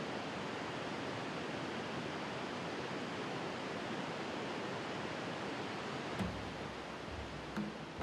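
Victoria Falls on the Zambezi River roars in a dense, unbroken wash of falling water and spray, loud and steady throughout with no voices.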